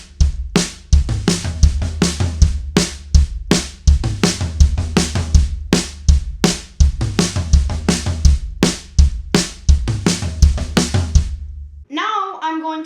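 Drum kit playing a verse beat variation for a song, steady driving kick, snare and cymbal pattern looping loud and close for several bars, with a brief voice at the very end.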